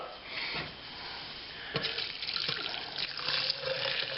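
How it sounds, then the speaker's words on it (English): Hot water from a kettle pours and splashes steadily into a tin, with a few sharper sloshing bursts along the way. "a kettle of water is pretty much the perfect size for filling this tin"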